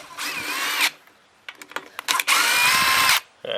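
A power drill or driver runs in two loud bursts while backing out the carburetor screws on a Craftsman leaf blower, with small clicks and clatter of handling between bursts, close up.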